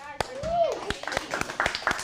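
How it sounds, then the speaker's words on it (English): Scattered hand claps from a small teen improv class, sparse and uneven, sounding close in a room, with voices and a whoop layered over them. "Let's give a round of applause"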